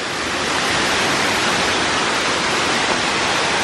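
Turkeyfoot Falls in the Sipsey Wilderness of Bankhead National Forest, Alabama, roars in a loud, steady wash of falling water, heard close from a sandbar, with no voices.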